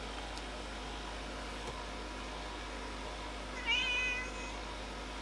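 A cat gives a single short meow at moderate distance, around a second long, over steady electronic hum and room noise in a workshop setting with computer hardware.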